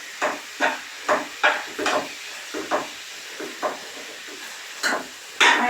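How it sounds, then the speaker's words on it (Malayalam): Ginger and garlic being sautéed in a pan for a Kerala-style beef curry, with steady close sizzling broken by about a dozen rhythmic scraping stirs of a spoon against the pan; no talking. "നന്നായിട്ടൊന്ന് വഴറ്റിയെടുക്കാം"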